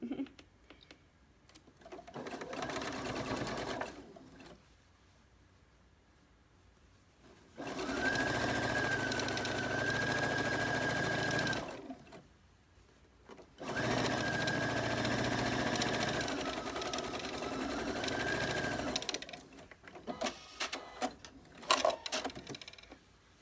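A sewing machine stitches a children's t-shirt dress in two sustained whirring runs separated by quiet pauses. A few light clicks and knocks follow at the end, with no talking.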